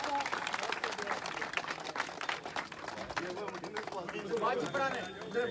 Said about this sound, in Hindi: जोरदार तालियों से स्वागत सुभाष जी का।